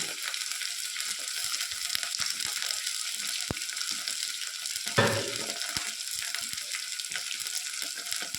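Curry leaves sizzle and crackle in hot oil in a pan while being stirred for egg biryani, a steady hiss with a few sharp pops and one louder scrape of stirring midway.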